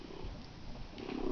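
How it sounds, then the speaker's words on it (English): A domestic cat purrs close by, a soft, continuous rhythmic rumble heard alone at low level for about a second and a half. "I have a cat who might be interrupting"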